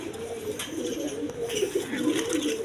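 Healthy farm pigeons coo continuously nearby in a steady, layered murmur, several birds overlapping.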